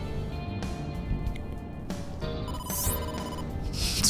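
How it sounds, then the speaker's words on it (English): A phone rings for an incoming call from the boss in AI: The Somnium Files, a steady electronic ringtone repeating over quiet game background sound, with no talk. "incoming call from the boss"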